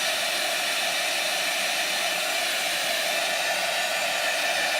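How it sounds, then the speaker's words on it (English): A heat tool drying chalk paste, giving a loud, steady, close-up rushing blast of hot air that holds unbroken throughout. "let me get my heat tool, and I'm sorry it's going to be a little loud."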